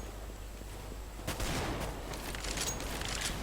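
Counter-Strike: Global Offensive gunfire, a burst of rapid shots breaking out after a quieter stretch and continuing as sharp repeated cracks over steady background game noise.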